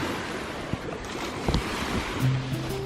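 Sea waves wash onto the beach at Pattaya at sunset, a steady broad rush of surf with wind buffeting the microphone and a few faint knocks, no voices.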